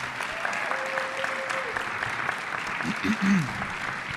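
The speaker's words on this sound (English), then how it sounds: "Let's give another round of applause for Van Jones." Steady applause from an audience at a Cal State Fullerton talk by Van Jones fills the room, with a brief tonal whine and a few louder claps near the end.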